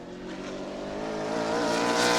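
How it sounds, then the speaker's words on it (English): A modified race car runs its qualifying lap at New Smyrna, engine roaring steadily and building in intensity as it nears. "Next out to qualify will be car number 24 for Bruce Bennett."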